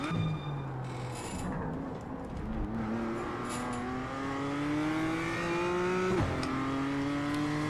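Race car in the iRacing sim at Oulton Park accelerating hard, engine pitch climbing steadily through the gears with a sharp upshift drop near the end, close and continuous.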